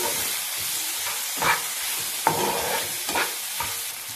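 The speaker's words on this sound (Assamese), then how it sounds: "অতি সুন্দৰকৈ মই এতিয়া ভাজি লওঁ" Tomatoes fry over a high flame with a loud, continuous frying hiss in a pan, broken by a few spatula scrapes and stirs at irregular intervals.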